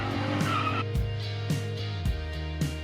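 Burnout from a car with an injected 5-litre engine on a fresh set of tyres at Sydney Motorsport Park. A loud engine drones with tyre squeal layered on top, broken by several short pulsing bursts as the revs rise and fall.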